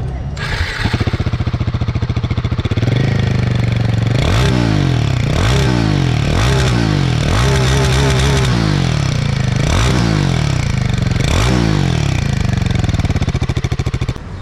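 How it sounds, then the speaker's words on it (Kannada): A Royal Enfield Himalayan 450 motorcycle runs with a steady loud exhaust drone, punctuated by about six sharp revving throttle blips in an even rhythm, close to the listener. "ಸೊ ಸ್ನೇಹಿತರೆ, ಅಟ್ ಲಾಸ್ಟ್ ಗಾಡಿ ಎಕ್ಸಾಸ್ಟ್ ಔಟ್ ನೋಡೋಣ ಬನ್ನಿ."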